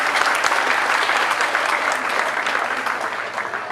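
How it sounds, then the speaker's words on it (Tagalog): Attendees at a Medical City launch event break into loud, even applause that stays dense and sustained with only a slight easing near the end. "dapat pumalakpak ang mga taga-clinic niyan"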